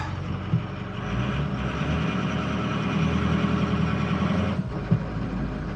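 A truck engine belonging to a vehicle named Apollo idles steadily, a loud, close, continuous low rumble with a brief dip near the end and no voices.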